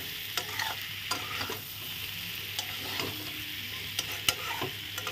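Spiced pointed gourd is being stir-fried in a pan. It makes a continuous soft sizzle, with the scrape and clack of a spatula stirring now and then, close up and with no talk.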